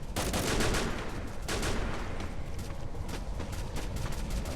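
Automatic weapon fire in the mobile battle-royale game Free Fire crackles in dense, continuous bursts, loud and close, with several sharper surges of rapid shots across the stretch.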